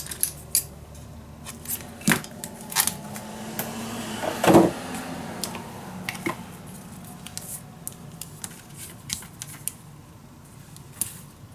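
Scissors cut paper for an envelope-based mini album in a papercraft project. There are irregular close snips and crisp clicks, one louder crunching cut in the middle, and scattered small taps around them, with no talking.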